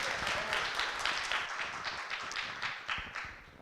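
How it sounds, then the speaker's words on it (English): A conference audience at a tech talk applauds the speaker, many hands clapping in a steady, close round of applause that carries on for several seconds before tapering. "So a big round of applause for Mihai."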